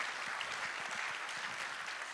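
Steady audience applause at a medical college's annual general and scientific meeting in Ghana, a dense wash of many hands clapping at an even level from start to finish with no voices rising above it.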